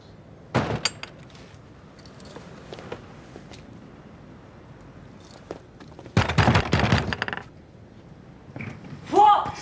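Heavy banging on a house's front door comes in two loud bursts of rapid thuds, one early and a longer one later, separated by near quiet, with a voice heard at the end.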